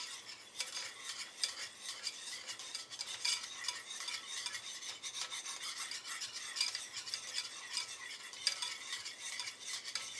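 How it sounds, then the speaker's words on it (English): Steady scraping stir of a spoon through keto caramel for monster cookies in a pot, a continuous rasping swirl with faint sizzle, close and alone with no talk. "You want to consistently stir this so it does not burn."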